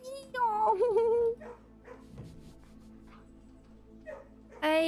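Beagles in the video game Blue Prince give a whine and a few soft yips and barks, loud at the start and again at the end, with quieter game sounds between.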